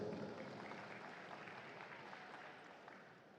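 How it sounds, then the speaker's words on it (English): Crowd in the Friendship Hall, Solomon Islands, applauds the umpires before a FIBA Women's Melanesian basketball game; faint, distant, steady clapping that slowly fades. "Please give them a round of applause."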